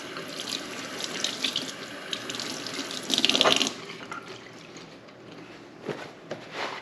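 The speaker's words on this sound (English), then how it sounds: "and then just wash your hands" Hands are washed under a running kitchen tap, a steady splashing hiss of water with a brief brighter gush midway, heard close and alone.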